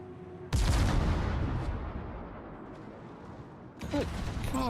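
Missile and artillery shells fire in a nuclear war strategy video game, opening with a sudden loud blast that rolls into a long rumbling roar, then a second burst near the end.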